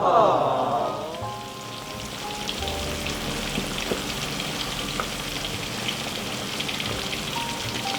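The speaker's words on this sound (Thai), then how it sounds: "เราก็ทอดไปอย่างนี้สักพักนะครับเพื่อนๆ อย่าคนบ่อยมากนะครับ" Salted chicken wings deep-fry in hot oil with a dense, continuous crackling sizzle like heavy rain, loud and close, after a brief clatter at the start.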